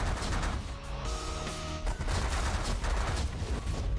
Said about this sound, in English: those rockets are not nice. Because they went right through my shields and damaged my hull